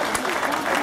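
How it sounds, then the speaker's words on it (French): Audience applause for FDJ cyclist Anthony Génin on the podium at a Tour du Limousin stage finish in Guéret, a dense burst of clapping from a crowd with some voices mixed in. "que l'on peut applaudir plus fort encore"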